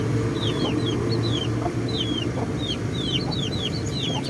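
An ash-grey hen with her eight newly hatched chicks: high, thin peeps repeat in quick clusters above a steady low farmyard murmur with soft clucking close by.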